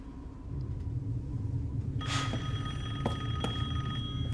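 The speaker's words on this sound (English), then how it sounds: "I'm about to sit here and listen to this whole phone call." A telephone rings in the video game Resident Evil Village, a bright electronic ring with repeated pulses starting partway through over a low steady rumble, with no speech.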